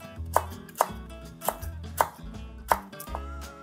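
Garden garlic and onion are chopped with a knife on a board, six sharp, evenly spaced chops ringing out close and clear with no talk.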